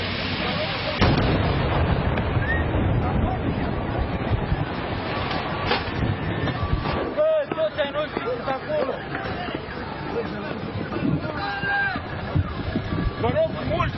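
A gas explosion at Crevedia, Romania, rumbles and booms in loud, wind-buffeted bursts amid crowd hubbub and shouting voices, with people talking over the din.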